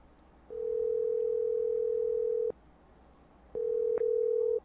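Telephone ringback tone heard while a call is being placed, with two steady long tones separated by a pause, loud and alone with no talking.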